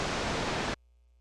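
The noise oscillator of Ableton Live 10's Analog synth plays a steady, loud, full-band hiss for under a second, then stops dead into silence.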